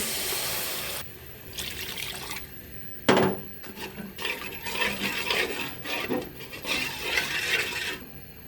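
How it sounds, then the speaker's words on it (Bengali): Water splashes and trickles into a cooking pot of fried vegetable stalks in short bursts, with a sharp clank partway through, close and fairly quiet. "এখন আমি পানি দিয়ে দেব"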